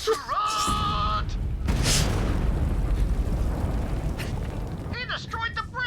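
A bridge blown apart in an explosion in the video game Borderlands 3: a massive booming blast that rolls into a long, loud rumbling roar, with voices speaking briefly at the start and the end.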